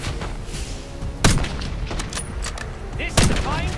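Explosives detonating in Call of Duty: Black Ops 6 on PC, two sharp loud blasts a couple of seconds apart over a rumbling battle background with scattered gunfire.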